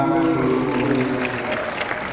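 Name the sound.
applause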